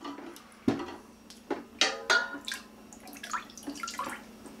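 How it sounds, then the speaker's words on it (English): Glass bottles are lifted out of a pot of water in a kitchen, giving a few sharp clinks and knocks followed by splashing and dripping, close and fairly quiet. "now I'm going to take the bottles back out and just, you know, set them to the side"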